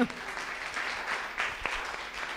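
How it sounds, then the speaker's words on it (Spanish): Audience applause at a Spanish panel discussion on popular movements between Spain and Latin America, a fairly quiet, steady smattering of clapping from a seated crowd heard from a distance. "Podéis aplaudirle, por supuesto"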